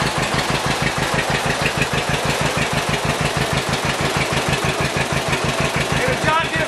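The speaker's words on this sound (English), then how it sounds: "Sounds like a John Deere." An old John Deere BW tractor engine running, a loud close rapid steady putt-putt pulse with even firing beats throughout, alone without talking.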